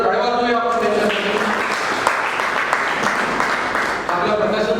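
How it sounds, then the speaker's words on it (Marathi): Loud audience applause for a publisher at a book launch ceremony, thick continuous clapping across the room, with a voice speaking over the opening second and again near the end. "एकदा जोरदार टाळ्या वाजवूया आपण त्याच्यासाठी."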